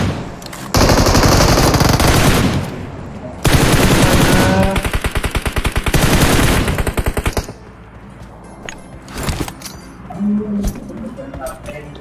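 Automatic gunfire in a sniper shooter video game rattles loud in two long bursts of rapid shots, then gives way to quieter scattered game sounds and player chatter near the end.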